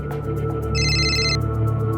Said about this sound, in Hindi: मिश्रा जी का फोन।